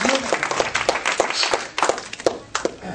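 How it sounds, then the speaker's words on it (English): Congregation clapping hands at a church praise service, a steady run of many close hand claps with bright, sharp hits, loud and continuous. "Give the Lord a hand clap."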